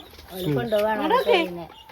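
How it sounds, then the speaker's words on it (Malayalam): A hen clucks and warbles close by in a short burst of rising and falling calls lasting a second or two. "പാത്ത കോഴിനെ കണ്ടോ കൊണ്ടുപോവാണ് ഞാന്"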